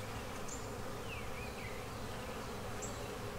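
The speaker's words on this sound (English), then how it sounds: "beautiful frame of bees" Honey bees swarm over a brood frame lifted during a spring hive inspection in a bee barn, making a dense, steady droning hum that stays close and unbroken throughout, with a few faint high chirps above it and no talking.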